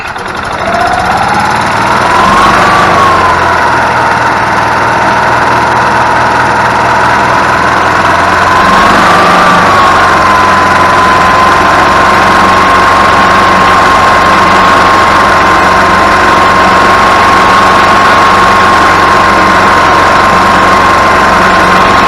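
A Club Car DS golf cart engine runs steadily after an oil leak repair, a loud continuous rumble with a droning tone that rises and settles a couple of times before holding an even idle throughout.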